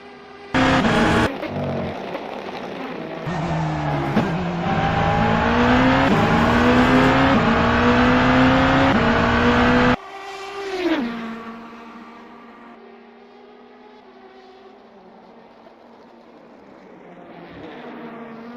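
GT race cars lapping a circuit in an SRO championship round, engines roaring loud and close with rising and shifting revs for about ten seconds, then dropping to a fainter, more distant drone.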